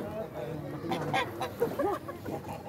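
Geese honking and squawking in short bursts near by at a museum park pond in Tainan, with people talking over the calls.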